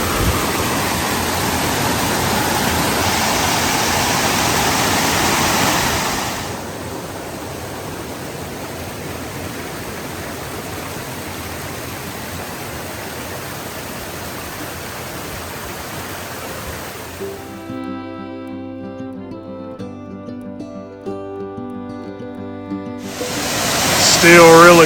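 Cascade Falls waterfall in Virginia's Jefferson National Forest roars as a steady broadband rush, louder at first then softer, before a stretch of background music cuts in near the end.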